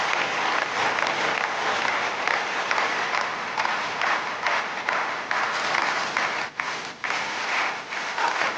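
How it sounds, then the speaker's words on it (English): Loud, dense applause and rhythmic clapping from a crowd of news discussion hosts as they sing together, steady and close for the whole stretch with only a couple of brief dips. "the sound is a little broken up because of all the clapping and everything"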